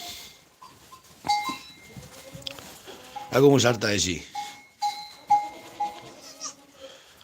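Goats on a farm during kidding season give a loud drawn-out bleat in the middle, with fainter bleats and rustling around it while people talk in Spanish.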